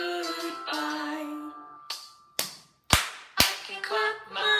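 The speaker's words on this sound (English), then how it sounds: "I can clap my hands" Hands clap four times in a slow, evenly spaced series: sharp, close and loud. Bright sung or musical tones come before the claps and return afterward, as in a children's action song.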